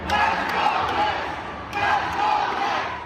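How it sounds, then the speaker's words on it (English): Thousands of Knicks fans in a packed Philadelphia arena roar during a playoff game against the Sixers, a dense crowd cheer rising in two broad swells with a short dip between them. "Thousands of Knicks fans showed up in orange and blue, cheering as New York eliminated the Sixers from the playoffs."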